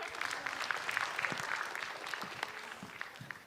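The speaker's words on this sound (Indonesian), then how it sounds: "Tepuk tangan sekali lagi untuk Kang Ripai." A comedy show audience applauds a stand-up comedian on stage, with dense, sustained clapping that stays fairly loud and even throughout and tapers slightly at the end.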